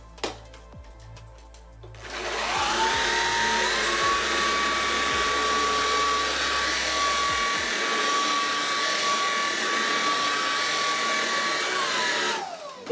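A Shark cordless vacuum cleaner switches up to boost mode on carpet and settles into a loud, steady whine with a rushing roar. It runs unbroken for about ten seconds, then cuts off, with no voice.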